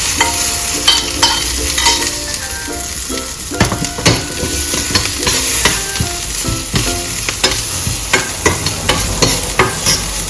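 Garlic cloves and peanuts roasting in a pan for peanut chutney, with loud, continuous sizzling and frequent scraping stirs close up, a busy crackling texture throughout.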